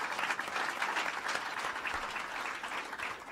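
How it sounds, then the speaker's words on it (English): A steady round of crowd applause at a government announcement event in Suffolk County, dense and continuous clapping from many hands throughout. "Howard Zemsky, let's give him a round of applause."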